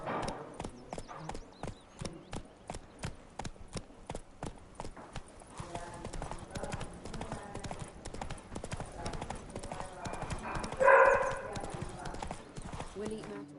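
Roach, Geralt's horse in The Witcher 3, clip-clops at a regular trotting pace, hooves close and distinct, easing into softer mixed game ambience with a brief louder burst near the end.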